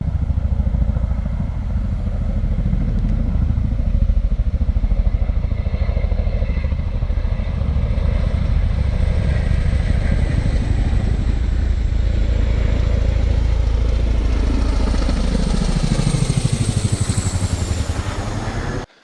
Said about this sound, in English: Chinook helicopter came over.